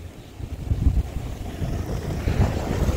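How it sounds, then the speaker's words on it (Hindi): Steady wind gusts buffet the microphone with a low, rumbling roar that rises and falls, no voices present. "अभी देखो हवा चल रही है ठंडी ठंडी"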